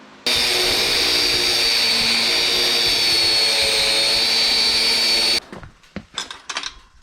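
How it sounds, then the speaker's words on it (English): A power drill runs loud and steady for about five seconds while boring holes in steel brackets for a lower steering shaft mount, then stops, followed by a few short clanks and handling noises. "I'll just drill and weld my brackets together"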